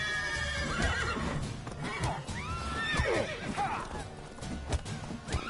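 A horse in the video game The Witcher 3 neighs in a sharp, wavering whinny amid hoof clops and game sound effects, with brief speech nearby.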